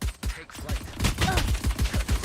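Rapid bursts of gunfire from the Valorant video game ring out in a steady rhythm of repeated sharp shots, loud and close, with dense game noise layered in the background.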